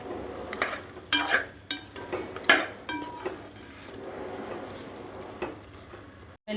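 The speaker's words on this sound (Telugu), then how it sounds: "అల్లం వెల్లుల్లి పేస్ట్ పచ్చివాసన పోయే వరకు వేయించుకోవాలండి." Chicken frying with ginger garlic paste in a pan, with irregular clinks and scrapes of a stirring utensil over a quiet, low sizzle, ending in a brief silence.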